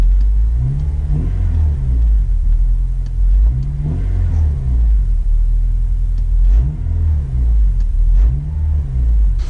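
A Honda Civic engine rumbles steadily with intake noise, rising in a few repeated revs with a low, throaty drone; no voices, continuous and close.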